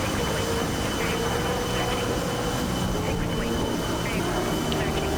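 A combat aircraft in a flight sim, flaps down and loaded with Maverick missiles, rockets and bombs, drones steadily as it circles back around, its engine a constant wash with voices talking over it.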